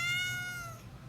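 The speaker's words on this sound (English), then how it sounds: "That's my cat again." A cat gives a single short meow, close and clear, trailing off quietly after about a second over a faint background hum.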